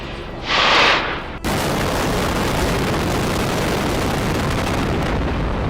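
Building demolition, with explosives set off to bring the structure down after a fireworks display: a loud, bright blast burst, then a sustained heavy roar and rumble of collapse that stays loud and continuous to the end.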